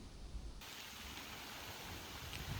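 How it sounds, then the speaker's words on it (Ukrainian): Rain suddenly begins falling at an outdoor riverside fishing spot under trees, a steady broadband hiss that starts abruptly and continues evenly at moderate loudness, with no voices. "Отакий класний дощик почався."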